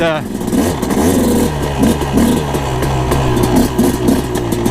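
A KTM 250SX dirt bike engine puttering at low revs in the desert, a throbbing two-stroke burble with small throttle blips, close and loud, while someone talks over it.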